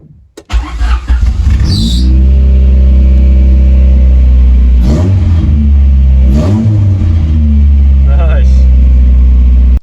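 A budget EF Honda Civic engine with a newly connected throttle cable cranks and catches, then settles into a loud, steady idle broken by three distinct revs, with a voice talking over it.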